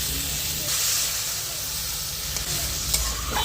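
Water poured into fish frying in mustard sauce sets off a loud, hissing sizzle with steam, steady and close, broken by a couple of light clinks of a utensil.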